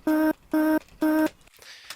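A chopped vocal sample, transposed, plays as three short, evenly spaced tonal stabs with a bright harmonic stack in a melodic techno production, followed by a softer airy tail; no talking.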